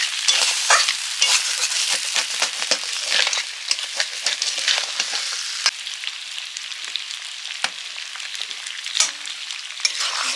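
Fried crab claws and pieces being stirred into thick lentil dal, with frequent sharp scraping and clacking spatula strokes over a bright sizzle, close and busy throughout.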